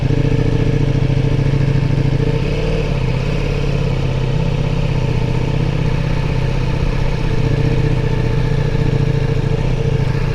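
Ducati Multistrada V4 S motorcycle engine droning steadily while riding at low speed, a continuous mid-pitched hum with wind and road rumble, no talking.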